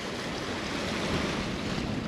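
Strong wind and breaking waves rush steadily around a sailboat off the Bahamas as a thunderstorm builds toward 30-knot gusts, a loud, unbroken roar of air and water.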